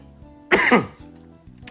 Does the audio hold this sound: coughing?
yes